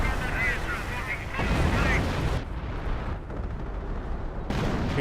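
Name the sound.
artillery barrage in Company of Heroes video game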